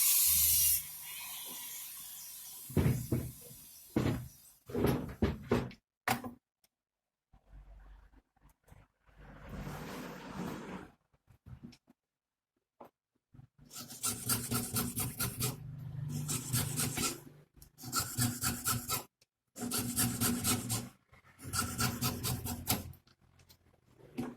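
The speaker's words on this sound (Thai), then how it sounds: "จากนั้นเราจะมาเจาะรูตรงกลางนี่นะฮะ" A hole is drilled through the middle of a plastic waterproof amulet frame, with close, repeated bursts of rasping, hissing grinding separated by short pauses, the later bursts longer and steadier.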